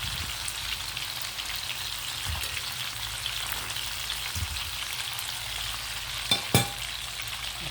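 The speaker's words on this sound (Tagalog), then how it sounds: "ito na yung ating piritong tilapia" Tilapia fries in hot oil in a pan, giving a steady close sizzle and crackle with a couple of sharper pops near the end.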